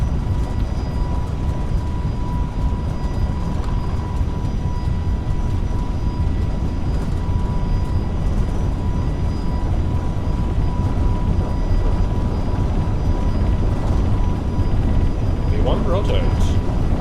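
Airbus A321LR engines spooled to takeoff thrust in a flight simulator: a loud, steady, broadband roar with a faint whine held throughout, while voices talk over it.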